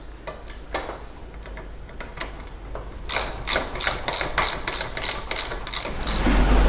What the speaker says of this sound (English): And with our wrench, we would loosen those.